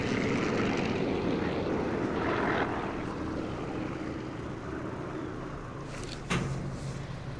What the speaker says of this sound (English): We still got aircraft also.